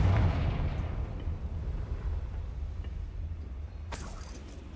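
A Confringo blasting spell goes off in Hogwarts Legacy, a loud low rumbling blast that opens the clip and slowly fades into a lingering roar, with a sharp crack near the end.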